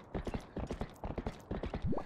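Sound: horse hooves from video game Zelda Twilight Princess

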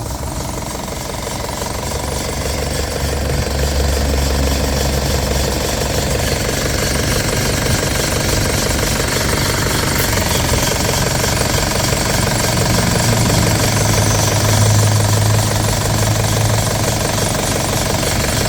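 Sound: pickup truck engine running

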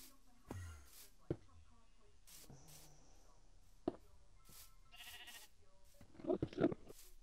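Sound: sheep bleating

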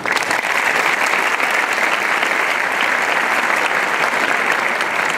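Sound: applause

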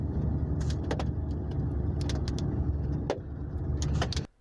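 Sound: volcanic ash falling on a car, La Soufrière, St. Vincent

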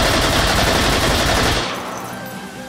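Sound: light machine gun firing in the video game H3VR

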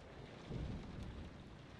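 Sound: thunderstorm outside, from Sherlock Holmes: Crimes & Punishment video game

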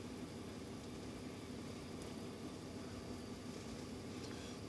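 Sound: diesel engine of a 2016 Ram 3500 truck idling

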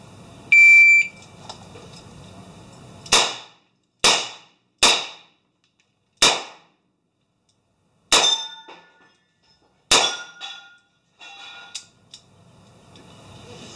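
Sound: revolver shots

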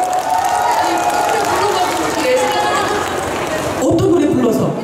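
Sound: audience applause at a concert

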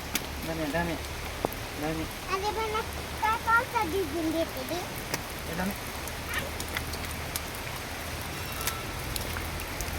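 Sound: rain falling

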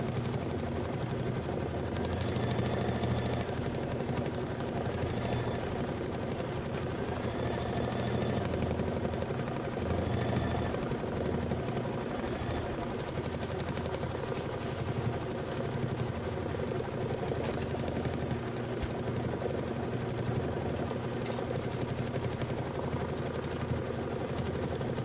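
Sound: embroidery machine stitching out Kimberbell Nativity block

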